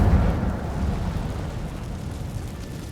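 Incendio fire spell cast in Hogwarts Legacy, a loud whooshing burst of flame at the start that settles into a sustained rumbling roar, slowly fading with no speech.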